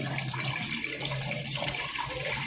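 Rice-washing water is poured into a cooking pot for a pork meatball soup, a brief, continuous close splashing pour with no other sounds.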